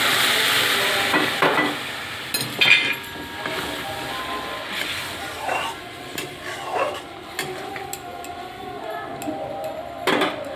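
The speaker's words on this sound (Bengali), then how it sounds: "কষানো হয়ে গেছে, এবার আমি এই গরম জলটা এর মধ্যে ঢেলে দিচ্ছি।" Hot water goes into a sizzling fried curry base in a pan, with a steady hiss and scattered clinks and scrapes of a utensil, close up.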